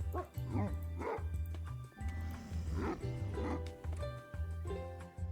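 Dogs bark repeatedly in the video game Minecraft, a steady run of loud, close barks with short yips and whimpers mixed in over constant game background sound.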